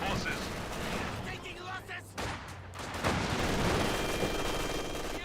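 Dense, continuous gunfire with booming shots in Company of Heroes 2, an MG42 machine gun firing in a battle, steady and loud throughout with game effects layered over it.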